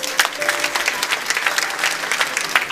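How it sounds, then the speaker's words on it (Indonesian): A church congregation at a Sunday worship service claps, a short burst of uneven, fairly close applause from a gathered crowd. "Beri tepuk tangan"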